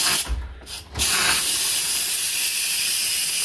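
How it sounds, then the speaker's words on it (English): An Instant Pot pressure cooker, switched to quick release, vents steam: after a brief mechanical click and a short burst, a loud, steady broadband hiss carries on unbroken, close by, with no talk. "That's it, releasing the steam."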